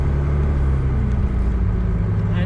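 A Cummins diesel truck with a compound twin-turbo setup runs nearby with a loud, steady, deep rumble and no change in pace across the whole stretch.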